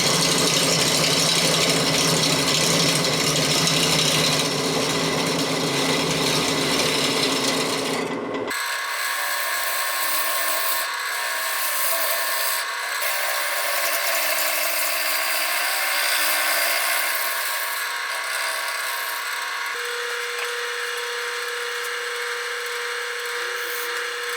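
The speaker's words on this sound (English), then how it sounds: "first I need to shape the bottom of the bowl" A resin bowl spins on a woodturning lathe while a tool shapes its bottom, giving a loud, continuous rasping scrape. It drops to a thinner, steady hiss partway through.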